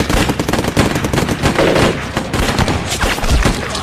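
Sustained gunfire in a war drama battle scene, with dense rapid bursts and overlapping shots from several weapons continuing throughout, loud and close.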